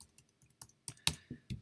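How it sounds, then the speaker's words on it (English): Quick, close clicks of keys on a computer keyboard, several irregular taps in a short burst, fairly quiet and with no voices. "I'm going to keep typing this over and over again."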